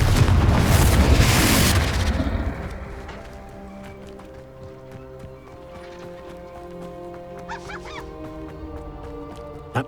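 A Confringo fire spell bursts in Hogwarts Legacy with a loud, broad explosive blast in the opening two seconds, then decays into a quieter rumbling tail with faint game ambience and brief scattered sounds afterward.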